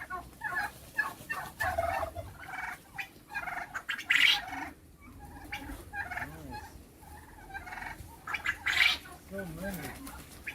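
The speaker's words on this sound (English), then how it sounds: "Annette, how many turkeys do you have this time of year?" Turkeys on a farm in Dahab gobble repeatedly in loud, close, overlapping bursts, with other fowl calls and people talking underneath.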